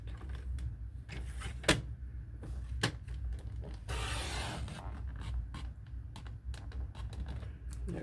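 Paper card being cut from right to left, a series of sharp close clicks and snips with a brief rustling slide of paper midway, over a low steady background hum.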